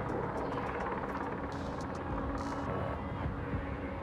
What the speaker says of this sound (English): What's their chopper waiting for?